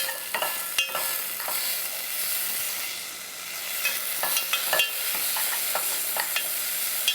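Wild greens stir-frying in perilla oil in a pan over lowered heat for a temple-food dish: a steady close sizzle with scattered scraping clicks of a utensil, no voices.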